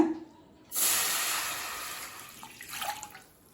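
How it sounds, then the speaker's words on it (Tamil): Two cups of water suddenly pour into a pot in a strong hissing stream that gradually softens, with a faint clink near the end. "அடுத்தது 2 கப் தண்ணி சேர்த்துக்கலாங்க."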